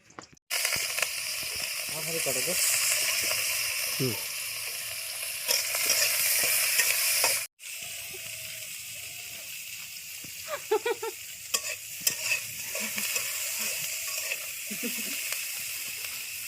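Onions frying in a hot pan in a village kitchen, a broad steady sizzle with stirring scrapes that cuts off briefly midway, then resumes quieter with occasional clinks and a voice talking faintly underneath.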